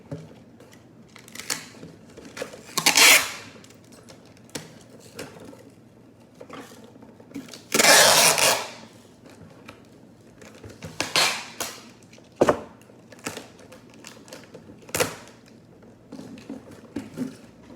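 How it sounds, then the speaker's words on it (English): A cardboard box is sealed with packing tape, loud ripping screeches as tape is pulled from the roll, separated by softer rustles, taps and handling noises of the box, close and without speech. "You just push it and then you tape it at the same time."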